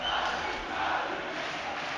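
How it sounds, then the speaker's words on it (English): A Brazilian crowd at a League of Legends esports match in Brazil cheers steadily, a broad continuous roar of many voices at a distance with no single voice standing out. "You can hear the Brazilians cheering these guys on."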